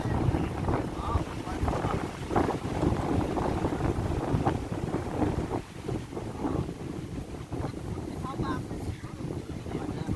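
Wind blows steadily outdoors, buffeting the microphone with a constant rough roar while people talk underneath.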